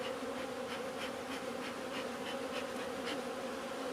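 Honeybees buzz in a dense, continuous drone at opened test hives on a very hot day, the swarm hum steady and close with no voices.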